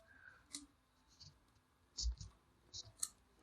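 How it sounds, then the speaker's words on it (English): Sparse, quiet key clicks on a computer keyboard as a short command is typed, irregular taps and a couple of louder strokes close by, with faint low talk in the background. "If I type here slash list"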